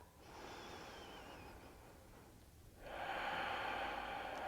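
Slow, audible breaths during a grounding vinyasa yoga flow: a soft, drawn inhale followed by a louder, rushing exhale through the nose, close and alone.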